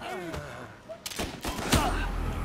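Gunfire in the Mafia 1 Remake video game, with several sharp shots and short bursts that are loud and close, mixed with game ambience and a voice nearby.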